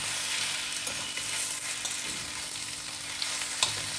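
Thinly sliced sour mango with salt, chilli and turmeric frying in a pan gives a close, steady sizzle, broken by soft scrapes and knocks of a spatula as it is stirred.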